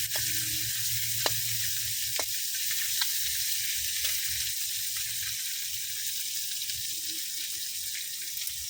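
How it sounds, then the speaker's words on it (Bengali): Freshwater fish pieces rubbed with turmeric and chili fry lightly in a pan, giving a constant bright sizzle with occasional small pops and ticks, close and steady throughout without talk. "তো বন্ধুরা আমি হালকা করে মাছগুলো ভাজা নিব,"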